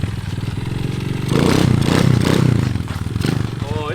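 A motorcycle on a flat tire revs up for a wheelie, its engine rising to a loud, rough mid-pitched roar with clattering and scraping, then easing off close by.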